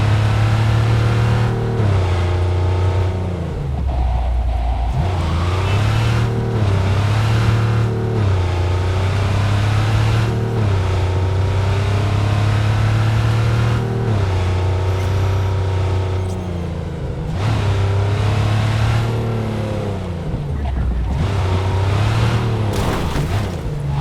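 A car engine drones steadily while driving in the video game Cyberpunk 2077, its pitch rising and dipping through repeated shifts and revs, loud and continuous throughout with no talk.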